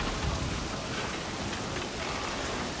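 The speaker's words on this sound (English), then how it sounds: "the waves and the thunder begin to die off, leaving only the rain as it continues to pour down on the ship" Heavy rain pours down steadily on a ship in a storm at sea, a dense, continuous wash of close rainfall with a low rumble of thunder beneath it, no voices.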